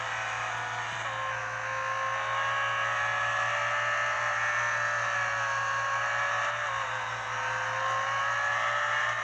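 A race car engine in the mobile racing game Real Racing 3 drones at steady high revs through a tier 9 race, a sustained whine that shifts slightly in pitch, loud and continuous.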